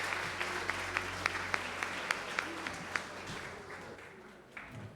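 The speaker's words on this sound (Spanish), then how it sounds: "Vamos a darle un aplauso al Señor." Church congregation applauding after a prayer, a steady wash of clapping with a few sharper claps standing out, fading away toward the end.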